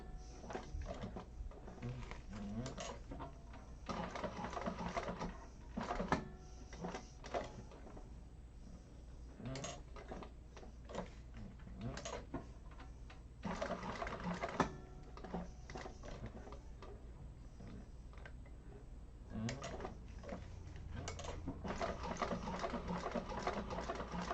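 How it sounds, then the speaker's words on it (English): A sewing machine runs a second row of top stitching an eighth of an inch from the first along the top edge of a Pawling handbag, in repeated bursts of stitching with short pauses between runs. "I'm going to go in with another row of top stitching 1/8 of an inch away from that first row along that top."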